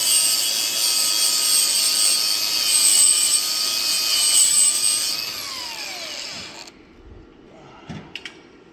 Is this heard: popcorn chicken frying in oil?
no